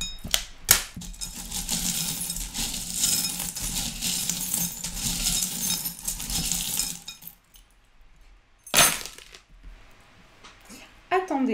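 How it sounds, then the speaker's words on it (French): Small fortune-telling charms and a little key clink and clatter, a busy jingling rattle for several seconds before a quiet gap, then one sharp separate drop and a few light taps, with a voice speaking at times. "J'ai la clé qui est tombée ici."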